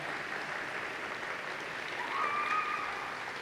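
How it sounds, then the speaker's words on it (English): Audience applause for students receiving awards at a high school awards evening, a steady, moderately distant wash of clapping that swells slightly near the end. "Give these students one final round of applause."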